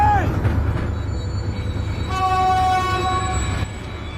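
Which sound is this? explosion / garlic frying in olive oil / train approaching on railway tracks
train approaching on railway tracks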